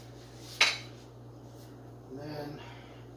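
A metal spoon gives one bright, sharp clink against a cooking pot on the stove, followed by a softer scrape and rattle, quiet over a low kitchen hum.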